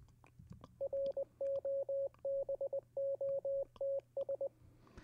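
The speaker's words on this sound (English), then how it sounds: "here's what Morse code sounds like here" A series of steady electronic beeps in short and long bursts, spelling out Morse code at a quick, even pace over faint background hiss.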